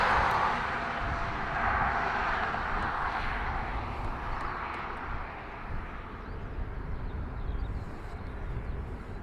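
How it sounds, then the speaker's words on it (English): Airliner at Dublin Airport taxiing to its gate after landing, a broad steady jet engine roar with a hissing whine rising and fading, fairly close and continuous without talk. "High Sky has just landed, pulling into their gate."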